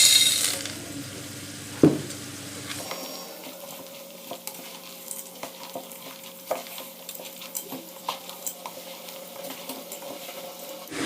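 Ring pasta tipped into a pot of frying lentils and rice, a metallic clatter and rattle at first, then a steady sizzle with scattered stirring clinks and scrapes, close by, no talking.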